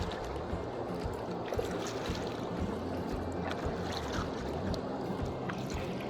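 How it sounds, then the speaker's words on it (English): A canoe or kayak on a lake in Banff National Park moves through the water with soft, steady sloshing and lapping, with light wind noise buffeting the microphone throughout. "we've paddled all the way across the lake"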